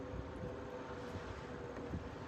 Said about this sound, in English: Oh, and the planes are taking off toward the east again.